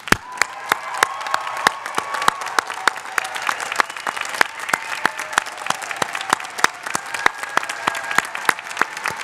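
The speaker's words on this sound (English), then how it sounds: "could we have one standing, amazing final ovation for the class of 2021?" Standing ovation from a convocation crowd for the graduating class of 2021, with dense, steady clapping that stays loud and even throughout, plus occasional cheers mixed in.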